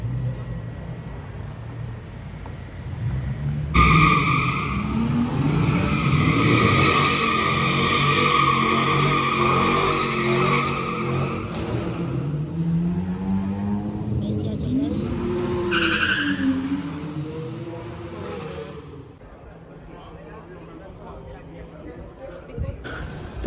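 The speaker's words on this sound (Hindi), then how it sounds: "ये चार पांच गाड़ी इतनी तेज से ब्रेक मार के घर घर" Several cars brake hard on a street in Prague, tires skidding and squealing loudly in a long sustained screech, followed by a rising and falling wail, with people talking underneath.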